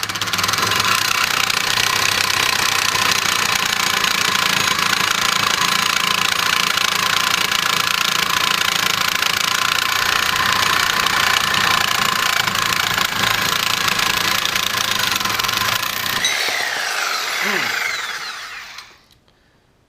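Diablo carbide-tipped reciprocating saw blade cutting through 3/4 inch steel, a loud, steady, close-up grinding buzz that runs unbroken for about sixteen seconds before the saw winds down and stops.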